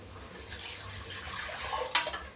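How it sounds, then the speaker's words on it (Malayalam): Water pouring into a cooking pot or pressure cooker while making egg biryani, a steady close splashing stream with a brief louder gush near the end. "വെള്ളം ഒഴിച്ചു കൊടുക്കാം"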